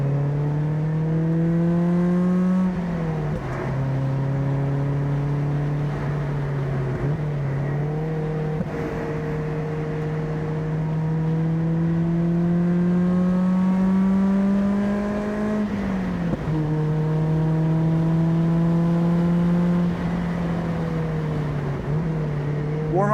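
A Mazda NC Miata runs on a race track while warming up its tires, the engine humming steadily inside the cabin and climbing in pitch through each gear before dropping at the shifts, with no talk.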